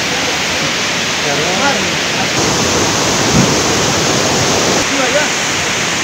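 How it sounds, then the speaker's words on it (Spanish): Velo de Novia waterfall in the Mazatec highlands of Eloxochitlán, Oaxaca, roaring with a steady, dense broadband rush of falling water throughout, close and loud, with faint voices now and then beneath it. "Estamos en la cascada Velo de Novia. Esta agua viene de el plano fres Magón."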